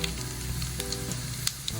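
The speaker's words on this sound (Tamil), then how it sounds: "எண்ணெய் காய்ஞ்ச உடனே அதில் வெந்தயமும் சீரகமும் போடணும்." Steady hiss of fenugreek and cumin seeds frying in hot oil, with a few faint crackles and pops, continuous and close.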